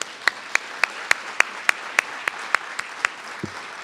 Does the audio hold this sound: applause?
yes